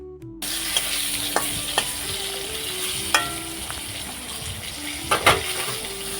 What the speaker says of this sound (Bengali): আমার পটলটা লাল লাল করে ভেজে নেওয়া হয়ে গেছে।